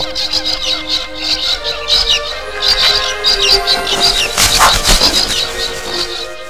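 Many birds chirp and twitter busily for several seconds, a dense, steady chorus of high calls with some louder bursts near the end.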